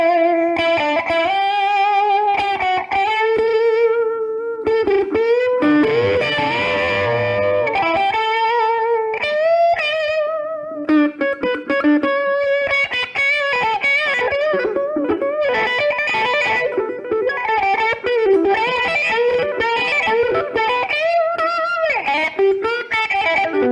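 An electric guitar played through a T-Rex effects pedal gives a robotic, filtered tone, with loud sustained notes and swept chords running continuously without pause.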